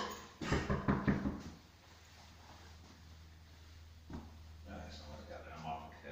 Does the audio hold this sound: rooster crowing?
no